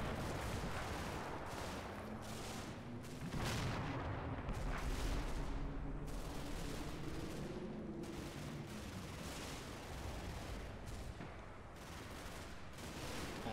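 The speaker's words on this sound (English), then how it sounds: "Oh, yeah, somebody's shooting back." Gunfire and mortar fire in the Combat Mission war video game, with mortars and rounds falling on a house and a church: a steady battle din of sharp shots and thuds over a rumbling bed, some way off.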